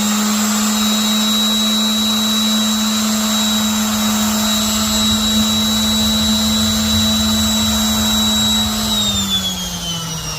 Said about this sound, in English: I'm gonna get the orbital sander and just real quick, so that it's nice and flat